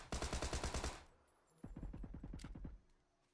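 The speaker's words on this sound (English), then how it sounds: "I creep over, lay some Thompson rounds down range." A Thompson submachine gun fires in PUBG, one fast, loud, close burst of about a dozen rounds, a short pause, then a second burst of about a dozen rounds.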